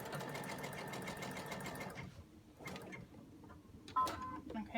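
A sewing machine stitches elastic onto a scrub hat, running in a fast steady mechanical chatter for about two seconds, then slowing to intermittent stitches and clicks.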